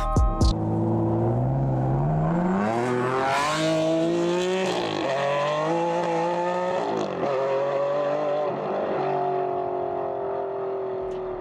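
A powerful red sports car's 6-litre, 651-horsepower engine revs hard and climbs through rising, falling pitches, sustained and loud throughout, accelerating up close.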